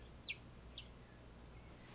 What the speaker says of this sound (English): and hear the bird.